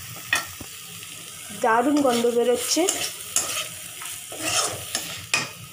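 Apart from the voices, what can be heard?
potatoes frying in spices in a pan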